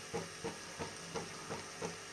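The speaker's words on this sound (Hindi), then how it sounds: "अब इस स्टेज पे हम इसमें सॉसेस ऐड कर देंगे।" Chicken frying in a pan as tomato ketchup and red chili sauce are added and stirred in, with a soft sizzle beneath six or seven evenly spaced scraping stir strokes of a spoon against the pan.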